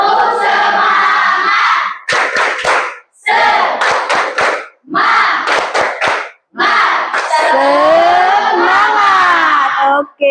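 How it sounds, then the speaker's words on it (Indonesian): A classroom of pupils performs the rhythmic group clapping routine 'tepuk semangat', bursts of claps in short patterned sets separated by brief pauses, ending in a loud sustained shout from many young voices. "Oke, 1, 2, 3 ya. Tepuk semangat."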